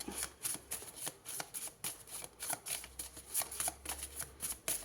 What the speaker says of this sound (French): On va prendre une carte.